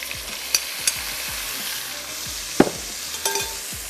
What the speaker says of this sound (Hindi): आधी प्याज हम इसमें शामिल कर देंगे